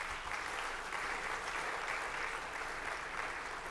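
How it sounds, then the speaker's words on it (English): Steady, dense audience applause fills a gala room from start to finish at an even level, with no voices rising above it. "give her a round of applause."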